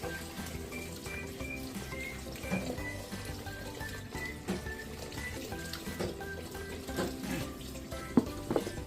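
Running tap water splashes steadily into a kitchen sink while vegetables are rinsed for pickling, a soft continuous stream with small clinks and knocks from handling.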